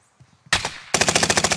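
Video game gunfire: a single loud shot-like burst, then a rapid machine-gun string of evenly spaced shots that sounds close and sharp after near silence.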